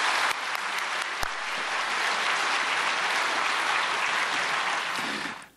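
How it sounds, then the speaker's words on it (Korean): A church congregation at a prayer meeting for peaceful reunification applauds to welcome an elder, a former health and welfare minister, with even, sustained clapping from a large room that fades out at the end. "나오실 때 큰 박수로 환영하시겠습니다"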